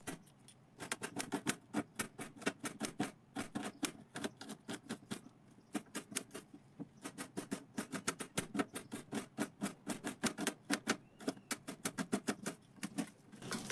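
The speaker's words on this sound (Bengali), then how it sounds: "আমি ঠিক এইভাবে পেঁয়াজটাকে কিন্তু কেটে নিচ্ছি।" A knife chops onions on a cutting board for a quick homemade snack, giving a fast, steady run of sharp close taps that continues almost without pause, with no voices.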